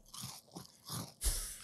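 Close crunching and chewing on a crunchy international snack, several loud bites in quick bursts with a sharp, bright crunch near the end, no speech.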